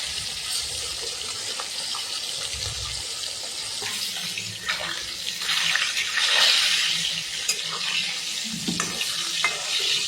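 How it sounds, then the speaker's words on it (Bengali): Chanda fish fries in a pan with a steady sizzle and crackle, joined by watery splashing and stirring scrapes that swell toward the middle and end. "মাছ এক পাশ ভাজা হয়ে গেছে"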